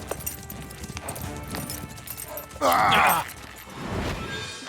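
Horses' hooves clip-clop in an animated Zorro adventure, a quick, close patter of steps with a sudden brief loud burst partway through, followed by more rustling movement.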